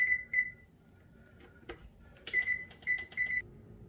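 An oven timer goes off with bright repeated electronic beeps in short clusters, loud and close, separated by brief gaps with quiet kitchen clatter in between.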